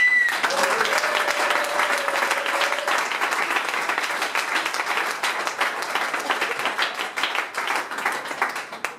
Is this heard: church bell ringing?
no